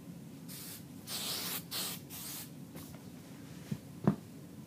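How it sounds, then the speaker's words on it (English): Hairspray mists onto a braided updo in a few short hissing bursts, close and fairly soft, followed by faint handling knocks. "I'm going to do a little bit of hairspray where need be."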